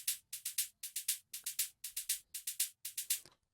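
A bright organic house percussion sample without LFO movement repeats in tight groups of three crisp hits, each with the same short decay, even and mechanical, ending with a brief fading tail.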